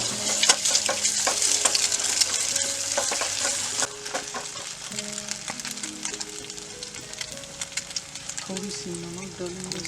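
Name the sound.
pasta ingredients frying and being stirred over camp fire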